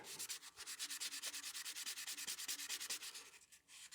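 Sandpaper is pressed by hand against a wooden box spinning on a woodturning lathe, giving a steady rhythmic hissing rasp that pulses rapidly and evenly and is close and fairly loud throughout.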